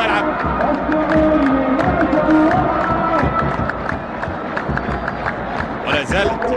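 Saudi and Bahraini football fans in the stadium stands during a World Cup qualifier roar, whoop and clap in a dense, steady crowd din, with a commentator talking over them.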